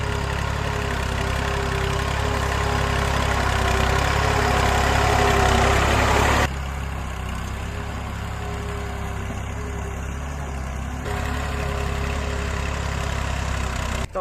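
A tractor engine idles steadily in a dark farm field at night, a continuous low rumble heard up close and alone, dropping slightly in level partway through.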